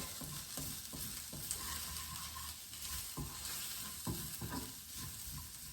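Curry oats get stirred around a hot pan: a soft sizzling bed broken by several distinct scraping strokes of the spoon, close and fairly quiet, with no speech.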